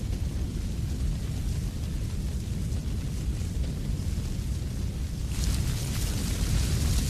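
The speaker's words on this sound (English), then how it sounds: "The old heather is being put to the torch to stimulate new growth for the grouse season." Old heather burning across the Cairngorm hills in late March, heard as a steady, dense crackling roar of fire that swells brighter and harsher toward the end, continuous with no voices.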